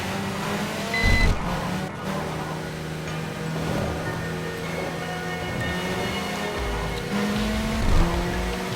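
A boxy van nicknamed the Shrek van, driven in the TXR racing video game: a steady engine drone with shifting tonal whines and a couple of louder surges, running continuously.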